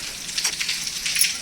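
Heavy rain pours steadily in a broadband hiss, close and continuous, with no voices over it.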